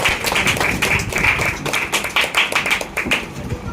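An audience at a trust's opening ceremony claps loudly and continuously, a dense, close patter of hands with a faint tone running underneath.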